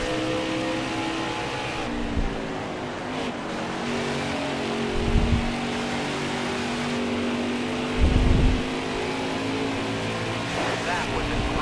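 Race trucks in a NASCAR Camping World Truck Series race at Phoenix Raceway roar steadily through the turns and down the back straightaway, a continuous engine drone with brief louder swells as trucks pass, under commentary.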